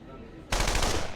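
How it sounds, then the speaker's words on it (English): A gunfire sound effect cuts in abruptly after a brief quiet moment, a loud, dense burst of rapid shots that continues to the end. "I could do with hearing the sound of a few gunshots."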